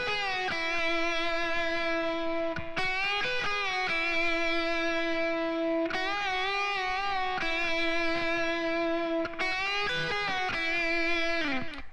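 Distorted electric guitar playing fills over a riff, sustained bent and vibrato notes in short phrases separated by brief picked attacks, loud and alone.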